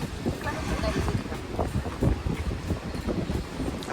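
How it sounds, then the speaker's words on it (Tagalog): Steady gusting wind buffets the microphone, a broad rumbling roar with no pauses, close and fairly loud throughout. "Ang hangin."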